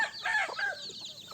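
Chickens cluck and squawk at close range inside a goat shed on a farm, a quick burst of excited calls that lasts a moment.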